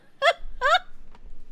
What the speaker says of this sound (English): there's a rooster on his carpet!